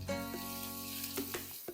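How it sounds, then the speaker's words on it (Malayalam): Onions, slit green chillies and curry leaves sauté in a pan with a soft, steady sizzle and a few light scrapes of a spoon, close by with no talk. "ഒരു 2 തണ്ട് കറിവേപ്പില വഴറ്റിയെടുക്കുക."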